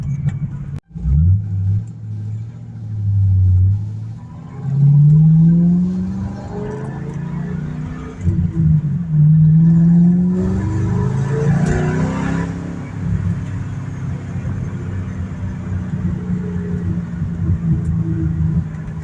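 A loud 2006 Ford Mustang GT V8 with mufflers removed rumbles close by, revving up and settling back into a deep, throaty idle.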